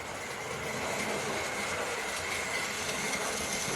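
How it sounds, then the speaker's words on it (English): A locomotive and train coaches passing give a steady, dense rumble and rushing roar at constant loudness throughout. "We can see when the locomotive goes in"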